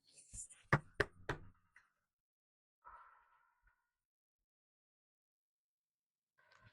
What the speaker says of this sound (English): Let's give them a knock with my selenite.